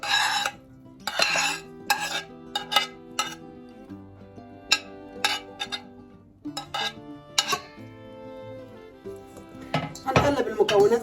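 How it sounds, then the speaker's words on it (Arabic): A metal spoon stirs sea bream fish-tray ingredients in a pan, with coriander, peppers and tomatoes, making bright ringing clinks and scrapes in irregular bursts, close and fairly quiet, with pauses between them. "هنقلب المكونات كلها مع بعضها كده كويس"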